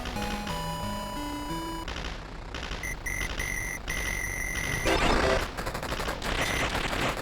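Retro arcade shoot-'em-up 1942 on hardest difficulty: rapid electronic gunfire and a brief crackling explosion burst over steady chiptune beeps and tones, continuous and busy throughout.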